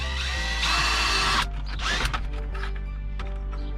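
A power drill whirs loudly for about a second while drilling into a car's dashboard, then winds down, followed by mechanical clicks and a steady hum.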